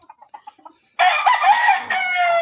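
A farm flock of chickens gives a few short soft clucks. A rooster then crows loudly and close, one long call followed by a second one, with no talk.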